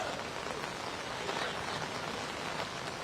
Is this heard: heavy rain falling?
yes